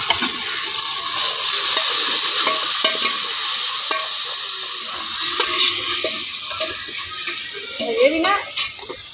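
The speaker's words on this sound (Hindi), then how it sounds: "प्याज देखो जी ब्राउन हो गए ने, और पाने जी मसाला।" Browned onions and masala fry in a pot in a village kitchen, a steady loud sizzle with intermittent scraping and clinking as a spoon stirs through the mix.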